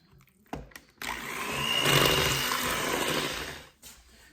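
Sweet potato bread batter beaten with an electric mixer, a steady whirring drone that rises to a loud, continuous churn for about three seconds after a brief clunk, then cuts off.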